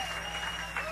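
Applause from the crowd at a 1979 George Thorogood & the Destroyers club show at the Palomino Club, a brief steady wash of clapping beneath a loud sustained tone.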